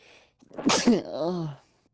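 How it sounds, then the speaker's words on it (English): A single loud, close sneeze with a sharp intake and burst, trailing off into a brief vocal tail. "Don't sneeze like that ever again."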